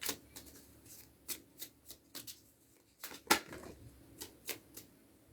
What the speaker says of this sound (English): before I give it a shuffle.